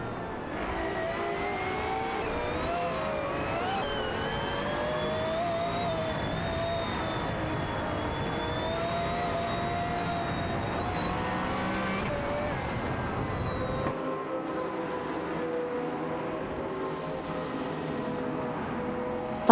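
Race car engine in an AI racing video game, a loud sustained high-revving whine with shifting pitch for most of the stretch, then dropping abruptly to a lower, quieter tone near the end, with no talk over it.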